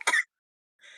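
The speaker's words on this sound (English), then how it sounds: "Why are you coughing?" A single short cough after hitting a vape, close and sharp, followed by a faint rasp of throat clearing.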